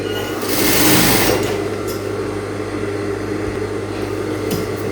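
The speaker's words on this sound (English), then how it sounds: "I'm going to sew it round, but I'm going to leave out like 5 inches where I'm going to turn it out." Domestic sewing machine stitching a flounce ruffle sleeve, a steady close mechanical whir running continuously with a slight swell early on, no talking.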